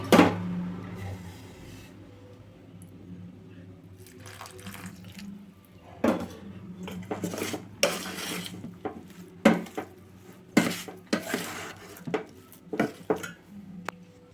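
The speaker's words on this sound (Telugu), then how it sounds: "చూడండి ఈ విధంగా కలుపుకున్న తర్వాత కొంచెం కొంచెంగా పాలు పోసి అయితే కలుపుకోవాలండి" Milk added bit by bit to ragi and jaggery dough, mixed by hand in a vessel close by: wet squelching and sloshing, punctuated by sharp clinks and knocks against the bowl that come more often toward the end.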